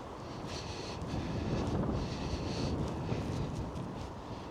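Wind by the River Trent at Gainsborough buffets the microphone in a low, rumbling roar that swells and eases slightly, with faint hissing gusts on top and no voices.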